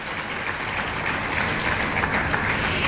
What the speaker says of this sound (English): Another round of applause for Christopher Chisel, 6th grader, Lake Tay